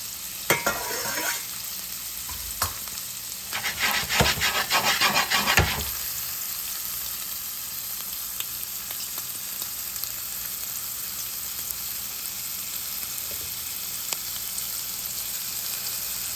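Shrimp and shallots frying in a pan over low heat give a steady soft sizzle, broken by two stretches of scraping and stirring bursts in the first few seconds.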